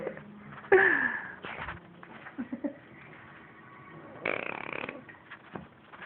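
A sleeping person snoring indoors, a few rough rattling breaths with snorts and quieter wheezy pauses between, close to the recorder.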